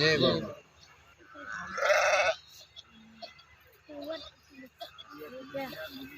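Several sheep from a travelling flock bleat in bursts in a field near Ropale, Pandharpur, Maharashtra, some near and some farther off, with voices talking intermittently in between and a faint outdoor background.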